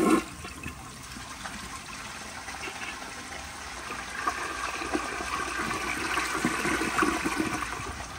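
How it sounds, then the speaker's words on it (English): A 1978 yellow Kilgore Apex double siphon jet toilet flushing, heard up close with a short initial clunk, then a rushing, gurgling flow of water that builds and keeps draining steadily to the end. "But here is another flush."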